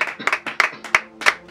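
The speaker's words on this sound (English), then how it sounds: "Let's give a round of applause to Jesus Christ" Sparse, irregular claps from a small church audience at a sermon, a handful of sharp separate hand claps spaced across a brief moment, close and moderately loud.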